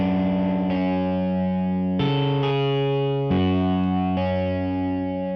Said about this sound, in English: Without any effects, the guitar sounds like this.